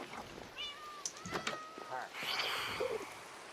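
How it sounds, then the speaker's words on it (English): Cats in a modded hardcore Minecraft world hiss and meow in a few short, fairly loud bursts, ending in a longer breathy hiss over a background of game noise. "The cats still hiss like crazy."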